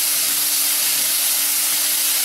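Radish and tamarind sautéing in a pan for a Tamil radish chutney, a steady close hiss and sizzle running unbroken the whole time with no talking.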